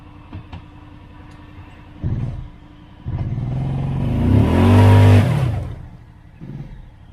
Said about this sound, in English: Now let's try four-wheel drive, see if I can take off.